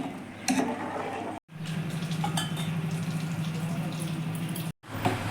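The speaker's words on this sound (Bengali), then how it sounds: "তিলগুলো ছেড়ে এইভাবে করে লাড়তে হবে ভালো করে ফুটিয়ে নিতে হবে" Sesame payesh bubbles in a pot while it is stirred, giving a steady wet simmering hiss with occasional scraping and clinks, close and continuous apart from two brief cuts.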